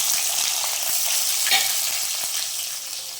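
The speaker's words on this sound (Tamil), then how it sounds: "இது நல்லா செகுப்பாக ஃப்ரை பண்ணிக்கலாம்" Chopped onion fries in a pan for onion rice, a steady bright sizzle with occasional soft stirring scrapes and taps, close and continuous.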